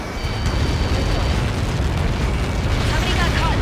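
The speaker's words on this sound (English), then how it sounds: "How many got caught in that explosion?" A large explosion impact in the combat flight game Ace Combat 7 makes a sustained roaring blast rumble that stays loud throughout, with radio chatter mixed in.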